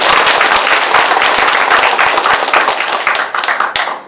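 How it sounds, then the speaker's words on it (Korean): Audience clapping after a call for applause at a Gangwon Jeongseon county mayoral candidate debate in Sabuk, loud dense claps continuing steadily, then thinning out toward the end. "박수 부탁드리겠습니다"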